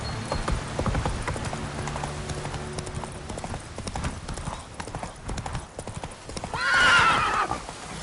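Roach the horse gallops in The Witcher 3, with rapid rhythmic hoofbeats sounding steadily throughout and a loud neigh near the end.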